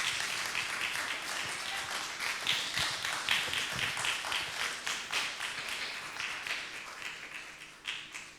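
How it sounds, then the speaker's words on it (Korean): Church congregation in Seattle applauding during a Korean Presbyterian Sunday service, a fairly distant crowd of hands clapping with distinct individual claps audible, fading gradually over several seconds. "큰 박수로 축복하십시오."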